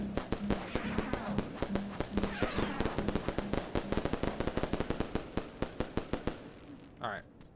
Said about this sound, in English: I'm guessing this is why they give us the fireworks